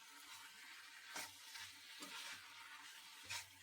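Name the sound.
chicken frying in a kadai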